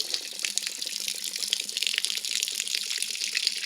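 Water gushes steadily from an RV water heater's drain, a continuous splashing hiss that holds an even level throughout with no voices.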